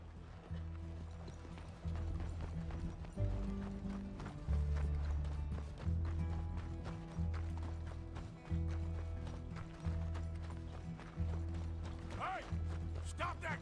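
Video game horse galloping, loud rhythmic hoof clip-clop in repeating bursts with a low thudding beat, while someone talks in German over it.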